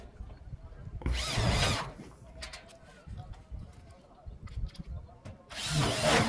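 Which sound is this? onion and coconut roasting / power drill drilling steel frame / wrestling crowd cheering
power drill drilling steel frame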